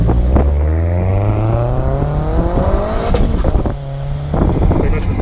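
A big-turbo Ford Fiesta ST with about 300 wheel horsepower revs hard up close, its engine note climbing and dropping in repeated pulls with turbo whoosh and flutter, while people talk over it.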